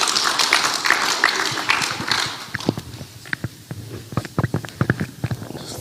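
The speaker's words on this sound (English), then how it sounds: "Maybe we can clap for them as they come." Audience at a missions conference opening keynote clapping as guests arrive, dense applause at first that thins into scattered, sharper individual claps.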